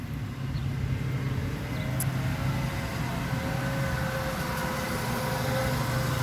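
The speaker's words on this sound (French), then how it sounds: "Désolée pour le tracteur." Tractor engine running steadily nearby in a rural garden setting, a continuous low rumble with a faint whine, fairly constant in loudness throughout.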